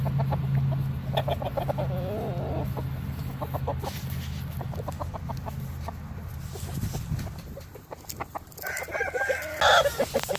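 A rooster crowing and chickens clucking close by in a farm setting, with repeated clucks throughout and a loud crow near the end over background hum.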